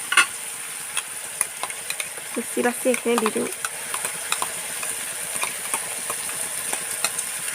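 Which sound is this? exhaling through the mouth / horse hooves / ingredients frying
ingredients frying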